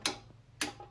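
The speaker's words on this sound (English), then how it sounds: "So I just keep cranking this down until I hear the torque wrench" Two sharp clicks a little over half a second apart from a torque wrench tightening the front axle bolt on a Honda VTX 1800 motorcycle, close and distinct with no talking.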